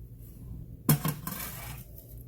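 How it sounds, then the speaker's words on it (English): A big spoon scooping through a pot of boiled potatoes, heard as one close metallic clank followed by a brief rattle and clink of metal against the pot, then quiet. "Let's see what I can fish out with my big old spoon here."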